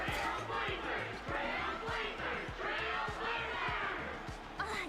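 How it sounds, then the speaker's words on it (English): Crowd cheering and roaring during a Pokemon video game battle, a steady wash of many voices swelling and dipping throughout, fairly quiet and continuous. "Sounds like we've got a few fans out there too."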